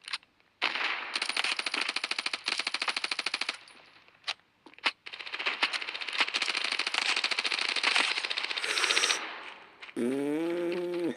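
Rapid automatic gunfire rattles in close, repeated bursts during shooting practice in the mobile shooter game Standoff 2, with brief pauses between volleys and a different tonal game sound at the very end.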